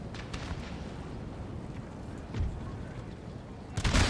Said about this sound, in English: the firing begins. These guys are taking fire.